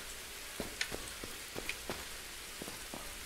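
Rain falls at night in a sinister spot in the horror game Horror Squad (Cafeteria Terror), a soft constant patter with scattered sharper drops tapping nearby.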